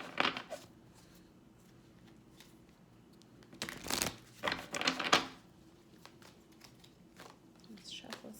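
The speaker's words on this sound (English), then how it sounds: "Let's shuffle, see the ones that come out." Affirmation cards are shuffled in a few short, crisp bursts of flicking and riffling, close and fairly quiet, separated by stretches of near silence.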